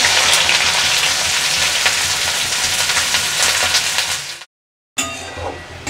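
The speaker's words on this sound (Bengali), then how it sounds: "তেল গরম হলে এর মধ্যে আমি দিয়ে দিচ্ছি 3টে মিডিয়াম সাইজের পেঁয়াজ কুচি।" Three medium onions, finely chopped, hit about three tablespoons of hot mustard oil and fry with a loud, steady sizzle and crackle that runs without a break. A short silent cut follows, and then the sizzling starts again.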